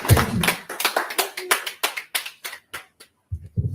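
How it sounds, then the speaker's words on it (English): Scattered handclaps from a small press-conference audience, a series of separate sharp claps spread evenly across the moment that thin out and briefly stop before a few more come in at the end. "another round of applause for His Excellency"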